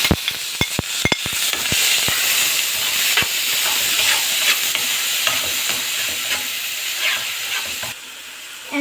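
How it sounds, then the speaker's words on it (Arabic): Onions hit hot oil and ghee in a pan, starting with several sharp crackles and pops and then settling into a loud, even sizzle that runs almost to the end, with no talking. "عندي مادة صينية فيها مادة دهنية زيت على سمن، أنزل بيها بالبصل"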